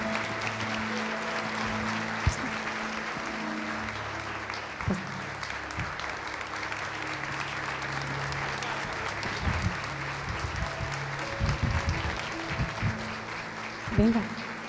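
A church congregation applauds together, sustained dense clapping filling the whole stretch, with a voice speaking over it and a few louder knocks and bumps near the end.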